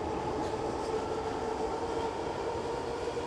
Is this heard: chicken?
no